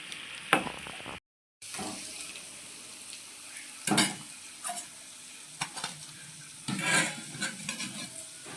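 Spinach pakoda fry in hot oil as a small spoon flips them, a steady sizzle broken by scraping stirs and metal clinks, with a brief dropout early on and bursts of louder frying.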